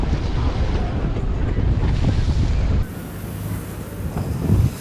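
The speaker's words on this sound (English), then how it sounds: "The engine is still on." A tourist boat's engine runs at sea while the boat watches a group of dolphins, a low rumble mixed with sloshing waves and heavy wind buffeting the microphone.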